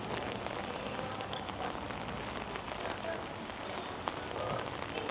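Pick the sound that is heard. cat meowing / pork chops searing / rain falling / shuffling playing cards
rain falling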